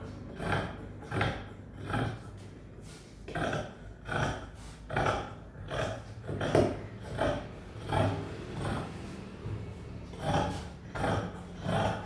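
Scissors cut through gown fabric in steady, evenly spaced rasping snips, about a dozen in a row, close and fairly quiet, with no talk.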